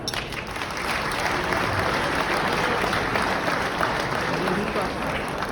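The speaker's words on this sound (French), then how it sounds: "Par applaudissement, combien d'entre vous ont plus de 10 ans d'expérience en affaires?" Business audience at an awards speech for the Gatineau chamber of commerce breaking into sustained applause, dense continuous clapping filling the room for several seconds, loud and even, with no speech over it.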